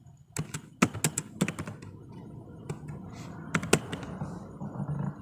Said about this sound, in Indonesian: Di sini kita ketik neraca.